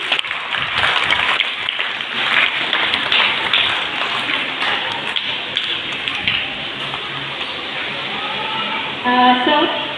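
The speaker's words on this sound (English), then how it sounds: "Can we all clap big and loud for the teachers" Audience at a school Independence Day celebration clapping steadily for the teachers, a dense, sustained wash of applause filling the whole stretch, with a brief higher tonal sound near the end.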